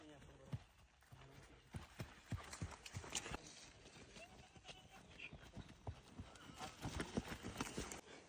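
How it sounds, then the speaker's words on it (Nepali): Hooves of a walking cow clop on a rural hill trail near the Khotang–Solukhumbu border, a quiet, uneven series of soft knocks with faint background voices and outdoor ambience. "गाई हिँड्नेको"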